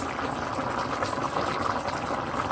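Onions, peppers and ground beef fry in a pan with a steady, dense bubbling sizzle that holds at an even level throughout, close and continuous with no voices.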